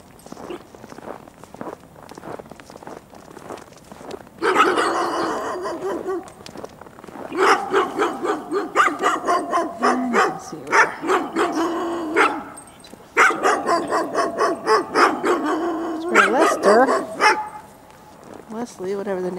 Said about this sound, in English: Oh boy, the idiot dogs.